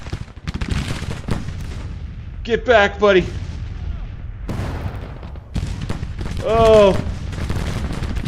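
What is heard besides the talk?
cannon and gunfire in a video game battle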